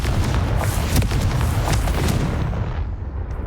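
A Confringo blasting spell detonating in Hogwarts Legacy, a dense, rumbling explosive roar with crackling bursts that holds steady and then tails off slightly at the end.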